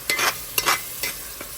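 Vegetables for yellow rice sizzle in a hot pan while a spoon stirs them, producing four rhythmic scraping sweeps over a steady close hiss of frying.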